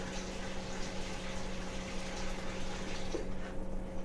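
Cold water runs steadily from a tap into a pot of cooked pasta shells in a home kitchen, a continuous close hiss with a faint tonal hum beneath.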